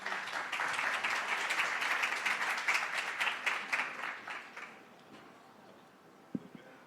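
An audience applauds panelists at a climate resilience panel, with dense steady clapping for about five seconds that then thins and fades out, followed by a quiet room with one faint knock.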